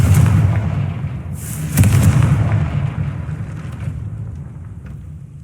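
A Confringo blasting curse goes off as one loud, deep, booming explosion close at hand. It swells right at the start, flares again briefly, then rumbles and slowly fades over several seconds with no voices.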